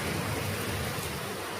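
Heavy evening rain of the new monsoon season pours down with thunder, a dense, loud, steady wash with deep low rumbling throughout the short stretch and no voices.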